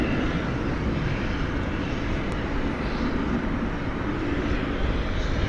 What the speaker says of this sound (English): 777-200ER, American Flight 997.